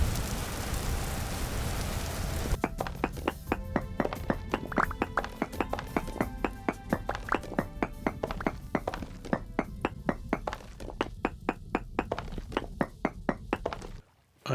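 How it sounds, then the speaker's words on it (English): Rain heard from indoors in Vintage Story, a steady patter on the roof with rapid, regular drumming thuds of drops hitting a hard surface, fairly close and continuous before cutting off near the end. "The rain sounds when you're inside are so nice."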